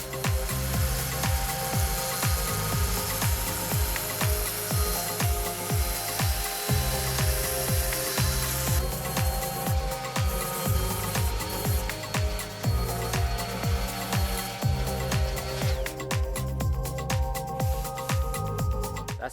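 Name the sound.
orbital sander with 60 grit sandpaper on fiberglass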